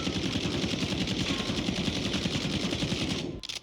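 Rapid sustained automatic fire from an AMAX assault rifle in Warzone, a fast even stream of close, loud shots that cuts off abruptly near the end.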